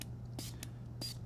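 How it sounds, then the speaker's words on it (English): A spray bottle mists developing solution onto filter paper in quick hissing bursts, three short sprays close up in a quiet room. "You want to spray enough times to get the filter paper wet without having the developing solution pooled into the paper."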